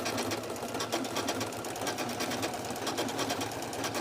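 An old sewing machine stitching a tote bag runs continuously at close range, with a fast, even mechanical whir and rapid ticking needle strokes throughout.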